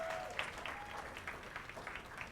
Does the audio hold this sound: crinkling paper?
no